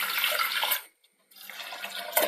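Water is poured into a pressure cooker over toor dal and turmeric in two bursts, a close, splashing gush that stops briefly before resuming.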